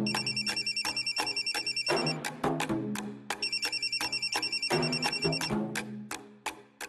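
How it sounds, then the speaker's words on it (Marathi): A telephone bell rings in repeated bursts of bright, rapid trilling separated by short pauses, loud and close in a household setting with no talking. "रे मोन्या फोन घे ना."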